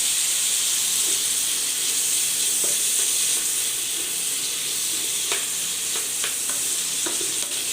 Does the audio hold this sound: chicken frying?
yes